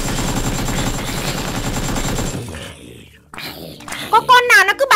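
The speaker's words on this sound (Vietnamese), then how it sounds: "Có con nào nó cứ bắn em nhở?" Rapid gunfire in a Minecraft game, steady bursts of shots at a player for about two seconds, then game sounds and excited voices take over.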